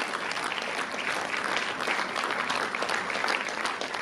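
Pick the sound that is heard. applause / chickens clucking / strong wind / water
applause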